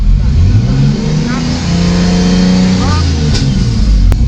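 A BMW E30 engine revs at a drift event, loud and close, rising and falling through several revs over a steady rumbling background, with people talking at the same time.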